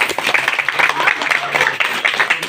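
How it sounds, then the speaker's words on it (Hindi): Loud applause from a crowd at a Hindi stage play, dense steady clapping with speech partly underneath. "जोरदार तालियां।"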